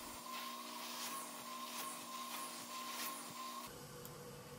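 A carpet extraction machine running with an acidic rinse in its solution tank gives off a steady droning whine with a faint tonal hum, quiet and continuous until its pitch and texture shift near the end.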